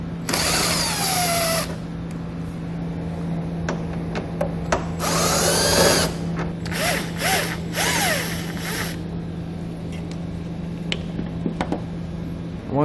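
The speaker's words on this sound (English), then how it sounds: "We're going to grab a 7mm socket and we're going to pull all those bolts out." A power tool with a 7mm socket whirs in several bursts, removing bolts from a 2018 Chevrolet, with short whines spinning up and down and quiet gaps between runs.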